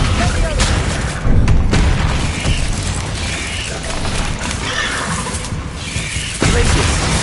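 Descendo spell slamming enemies down in the Hogwarts Legacy video game: loud, dense booming impacts and crashing over a continuous roar of combat, with a stronger hit near the start and another burst toward the end.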